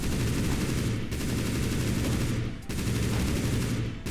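Automatic gunfire in a video game, dense rapid bursts that run loud and continuous with two brief breaks between strings of shots, no voices.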